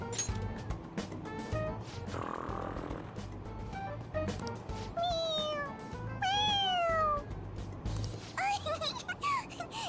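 In the video game Persona 5 Royal, a cat gives several rising and falling meows mixed with snore-like purring while a person talks over it.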